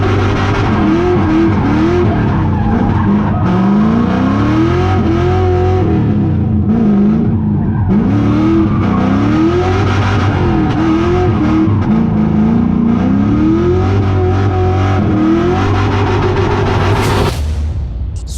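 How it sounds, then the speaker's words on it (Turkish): A rear-drive drift car kicked sideways with a clutch kick, its engine roaring loudly at high revs throughout with rising and falling pitch, tires squealing and skidding under the engine noise, and a sharp burst near the end. "anlık olarak debriyaj tokatlayarak yani clutch kick yaparak aracın arkasının kaymasını ve ardından gaz pedalıyla gazı ayarlayarak aracın drift yapmasını sağlayabiliriz"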